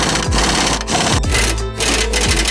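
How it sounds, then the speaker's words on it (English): Impact gun running a new nut down on a BMW suspension knuckle gives a loud, continuous buzzing rattle with a few brief dips, close up and without speech. "Run her down with the impact gun."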